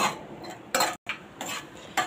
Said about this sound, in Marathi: सतत ढवळत राहा.